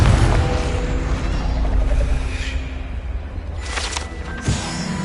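Confringo spell explosion in the video game Hogwarts Legacy, a heavy boom at the start rumbling away, followed by a couple of sharper whooshing bursts, loud and close.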